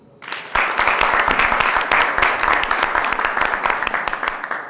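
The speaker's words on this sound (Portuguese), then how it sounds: "Salve de palmas primeiro, né?" A room full of students breaks into applause at the end of a Python lecture at a college, starting suddenly and holding as a dense, steady clatter of many hands.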